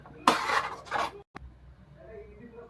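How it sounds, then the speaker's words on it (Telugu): Green chillies being stirred into Odisha-style guguni in a pan, with two short bursts of scraping and clattering from a spoon against the pan followed by a sharp knock and then quiet. "పచ్చిమిరపకాయలు వేసేసుకొని చక్కగా ఒకసారి కలిపేసుకోండి."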